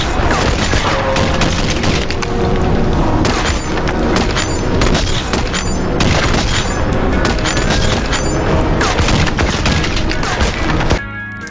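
Gunfire crackles through a TV drama trailer's police shootout, heavy booming shots and rapid volleys packed together over a loud, continuous action soundtrack, cutting off abruptly near the end.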